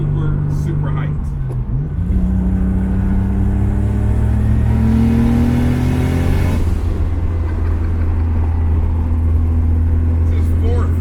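A Lexus LS400 fitted with a 1JZ engine revs and accelerates hard, its loud, close engine note climbing in pitch through the gears with a droning, whirring tone that holds strong to the end.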